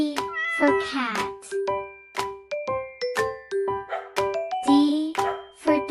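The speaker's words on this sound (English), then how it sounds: "C for cat." A cat meows repeatedly in bright, clear calls, a rapid series of short and drawn-out mews with a few chiming tones in between.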